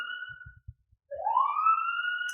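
A siren wails nearby, one tone cutting off briefly before rising again in a long sweeping wail, loud and close.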